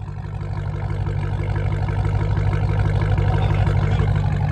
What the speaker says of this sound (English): Let's hear the idle.